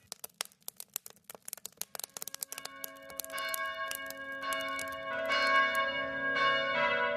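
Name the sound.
church bells ringing on Christmas morning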